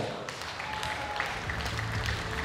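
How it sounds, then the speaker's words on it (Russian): Audience at a children's concert applauds steadily, a moderate patter of many hands clapping that builds slightly toward the end, heard at a slight distance in a hall. "Вам аплодисменты"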